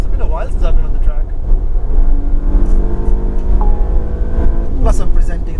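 A 2021 Porsche Panamera V6 driven hard on a race track, its engine rumbling and revving steadily inside the cabin beneath continuous talk from the driver.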